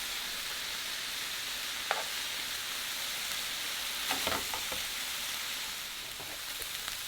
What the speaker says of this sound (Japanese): この時じゃがいもと肉のうまみがよく絡むように炒めていきます。